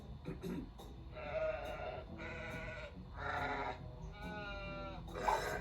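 Sheep bleat repeatedly in an animated cartoon, several wavering cries in a row at moderate volume against a soft background.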